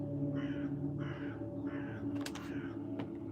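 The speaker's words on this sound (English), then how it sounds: "Did you hear the crow?" A crow caws three times in a steady, evenly spaced run, then falls quiet as a couple of sharp clicks follow, all over a constant low hum in the background.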